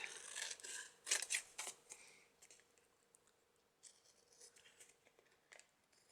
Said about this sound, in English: I'm just holding my scissors on a slight angle so I can get in right to the edge.